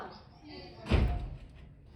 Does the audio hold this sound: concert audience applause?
no